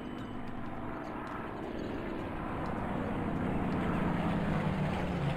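Airplanes pass overhead in Plane Mechanic Simulator, a steady broadband engine roar that swells slightly louder toward the end, continuous and distant-sounding with no voices.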